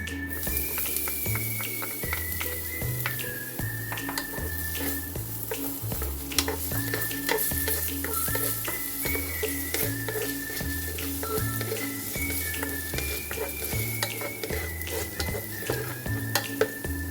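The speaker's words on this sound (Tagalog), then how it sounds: "Ayan, mainit yung ating mantika. Pwede na natin ilagay yung ating bawang." Garlic dropped into hot cooking oil for Filipino chicken lumpia togue, giving a steady close sizzle and crackle throughout, with stirring and scraping in the pan and a stretch of music playing underneath.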